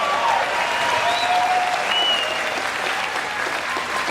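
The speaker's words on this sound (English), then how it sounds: "Let's give Steve a round" Steady applause from a political rally crowd in Missoula fills the whole stretch, loud and sustained without pause.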